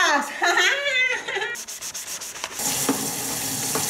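The green scouring side of a sponge scrubs a stone, a rough, rhythmic rubbing that starts after a brief voice and carries on close and steady to the end.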